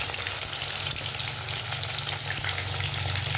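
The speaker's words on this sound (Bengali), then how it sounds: "দুটো দিয়ে দিয়েছি ভাজার জন্য বন্ধুরা" Stuffed bottle gourd leaf fritters fry in white oil with a loud, dense, continuous sizzle and bubbling close up, unbroken for the whole stretch.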